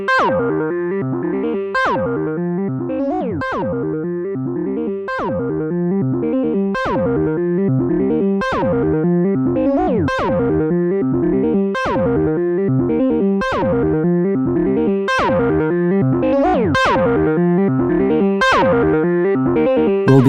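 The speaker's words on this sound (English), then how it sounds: "The overdrive sounds pretty good even with everything turned all the way down." A Novation Circuit Mono Station synth sequence runs through a KORG nu:tekt OD-S overdrive pedal with the tube gain turned all the way down. It makes a steady, looping, gritty pulse of buzzy notes at constant loudness with no voices.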